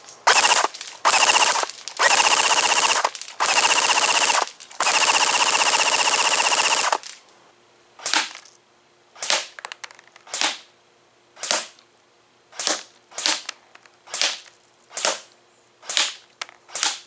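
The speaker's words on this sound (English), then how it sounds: "we'll shoot somewhere in the IV so you guys can see the flight path of the BBs coming out of the APS UAR" An APS UAR tan airsoft rifle fires BBs, starting with several long sustained full-auto bursts, then switching to a steady run of separate sharp single shots at even spacing, loud and close with no talk.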